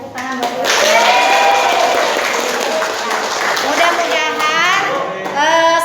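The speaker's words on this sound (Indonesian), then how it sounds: "Tepuk tangan buat" A classroom of students claps in a lively burst that carries on steadily while voices chatter and call out over the clapping.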